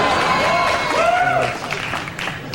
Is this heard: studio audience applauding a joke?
yes